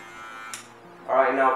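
Electric hair clipper fitted with a number three guard, lever fully open, buzzing steadily and then rising into a louder cutting buzz as it moves through hair, close up, with some talking.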